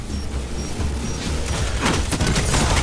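Rapid pulse rifle gunfire in Destiny 2 Crucible multiplayer, a continuous burst of loud crackling shots that intensifies toward the end, with no talk over it.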